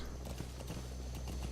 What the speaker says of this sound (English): It's just a horse.